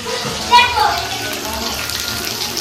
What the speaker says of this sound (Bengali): পকোড়া ভাজা হচ্ছে।